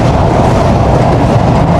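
Betna Express passenger train running between Khulna and Benapole, a loud, close, continuous rumble of wheels and carriages rolling steadily along the track.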